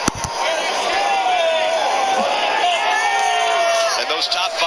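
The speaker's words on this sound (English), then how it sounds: "Listen to the crowd." Large crowd at a NASCAR race roars and cheers just after the top five cars cross the finish line close together, a sustained dense wall of noise with a commentator's voice faintly under it.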